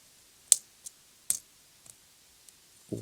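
Sharp scissors trim a cracked metal tape measure blade, giving a handful of crisp, separate snipping clicks spaced irregularly, close and quiet, without talk.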